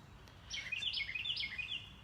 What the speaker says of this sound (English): I have a bird.